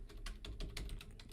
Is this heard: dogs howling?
no